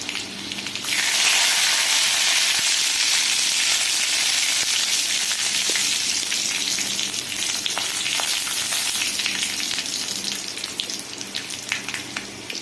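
Curry leaves dropped into hot oil for a South Indian buttermilk curry, setting off a loud, steady crackling sizzle with sharp pops that holds for the whole stretch, with no voices.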